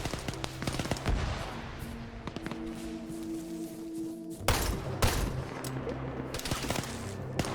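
Civilians firing low-grade guns in a video game battle: dense, fairly distant crackling volleys of overlapping shots, steady throughout with sharper louder bursts midway.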